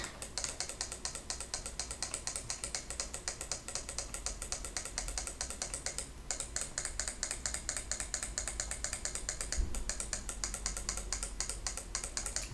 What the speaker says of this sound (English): Sorry for the loud clicking.